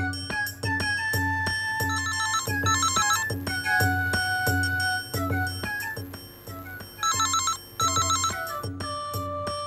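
A telephone rings after a call is dialed in a Tamil TV comedy serial, a repeating electronic ringtone pattern of bright chiming tones in bursts, loud and alone with no talk.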